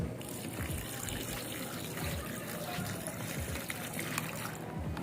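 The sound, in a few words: pouring water onto instant Maggi noodles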